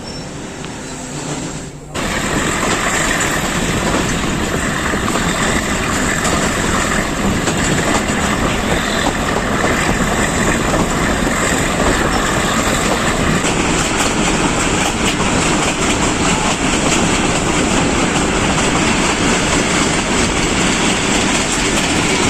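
The Kohat Express rolls along the rails near Basal Junction in Pakistan, a loud continuous rumble and clatter that starts abruptly after a short quieter moment and holds steady throughout.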